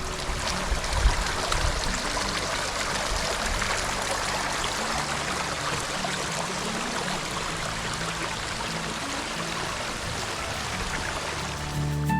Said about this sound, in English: A lot of little tiny creek crossings here.